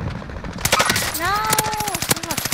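Gunfire crackles in a shooter video game, a rapid series of sharp shots rattling close while a player's voice talks over the top.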